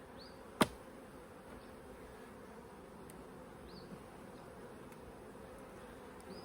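A colony of honeybees hums steadily around an opened hive frame, a low continuous buzz with occasional single bees zipping past close by, and one sharp knock early on.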